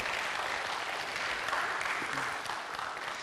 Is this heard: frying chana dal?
no